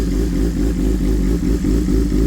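A warm 2023 BMW M1000 RR motorcycle engine idles close by, a loud, steady rumble with a slight rhythmic throb and no voices over it.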